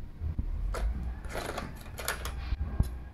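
An office coffee machine running with a busy mechanical whir, rattling clicks and a low hum, close and steady, with a couple of sharper knocks partway through and no talking.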